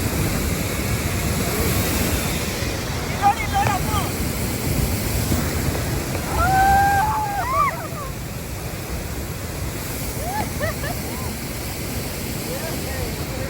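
Forceful rushing water at Hogenakkal waterfall gives a loud, steady roar that fills the whole stretch, with wind buffeting the microphone and faint voices and whistle-like calls faintly audible beneath.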